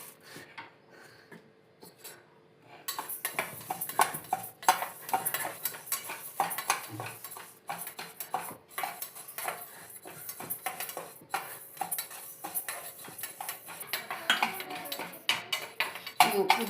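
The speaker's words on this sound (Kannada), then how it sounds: "ಒಂದು ಸ್ವಲ್ಪ ಉದ್ದಿನ ಬೇಳೆ ಹುರ್ಕೋತೀನಿ" Urad dal roasts in a frying pan, stirred with a metal spoon that scrapes and clinks steadily against the pan, with quiet crackling throughout.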